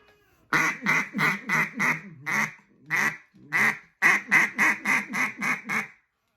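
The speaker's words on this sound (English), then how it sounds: "just sitting here calling at ducks on the wingtip and tail feathers" A duck call blown in a hunting cadence, a string of about a dozen loud, nasal quacks in steady rhythm, broken by a short pause midway before the run resumes, heard up close with no talking.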